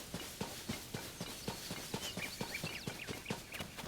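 Horses galloping in the video game Zelda: Tears of the Kingdom, a fast, even run of hoofbeats repeating through the clip over a faint game background.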